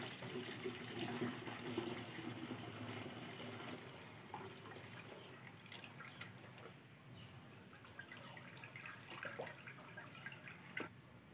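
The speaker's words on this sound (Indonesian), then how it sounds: "Air kelapa juga kita masukkan." Coconut water poured into a container while making bamboo shoot fermentation starter, a soft steady trickle with scattered drips, quiet and close, no voices.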